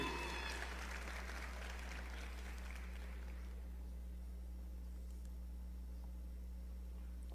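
Audience applause in a school auditorium for a student from Bishop's High School, soft and distant clapping that fades out after a few seconds, leaving a low steady hum.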